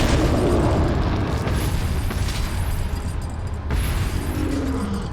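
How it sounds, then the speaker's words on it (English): A grenade blows up in the video game Resident Evil 4, a loud, dense roar of explosion and rumbling debris that keeps going at nearly steady loudness with a brief dip partway through. "How about we give you a grenade to choke on?"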